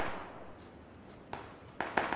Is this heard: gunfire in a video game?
yes